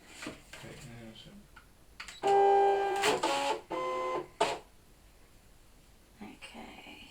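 A Brother ScanNCut CM cutting machine scanning, giving a whirring mechanical motor sound with steady tonal hum in several close bursts, separated by pauses, with quiet talking nearby.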